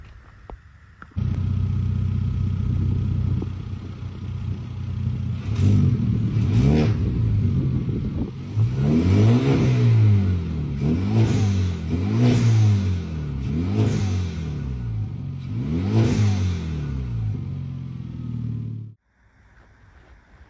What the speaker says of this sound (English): But I got HKS, sounds pretty good. I can't complain, but definitely need a blowoff valve.